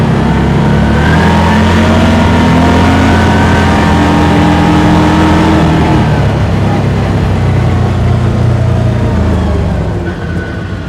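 A 2023 CFMoto ZForce 950 HO EX UTV engine accelerates gently from a standstill on a cold morning, a loud steady drone rising in pitch while someone talks over it.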